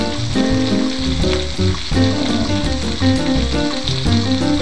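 Salmon fries in a pan over moderate heat, giving a close, steady crackling sizzle with small pops throughout and no other sounds.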